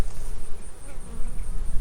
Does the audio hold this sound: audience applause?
no